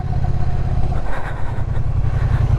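A Triumph Bonneville motorcycle engine labours up a steep hill, its steady mid-pitched drone held at high revs with a brief throttle change partway through, loud and close throughout with no talking.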